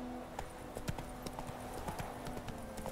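Roach the horse trotting in The Witcher 3, a steady clip-clop of hooves at close range with a faint background hum, no talking over it.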